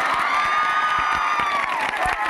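A crowd at a school's 27th annual function claps and cheers, with sharp hand claps scattered through a loud, continuous wash of shouts and whoops. A sustained tonal sound runs along beneath the cheering.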